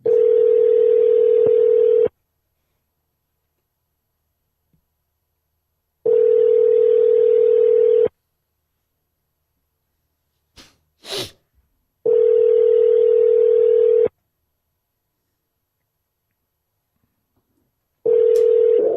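A telephone line tone comes in steady two-second bursts separated by gaps of silence, four pulses in all, with a brief click and a short chirp in the middle, as a call is placed.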